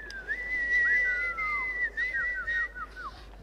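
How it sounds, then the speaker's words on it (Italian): A single person whistles a light, wavering tune, gliding notes rising and falling, up close over faint background noise. "E ti fai una bella fischietta"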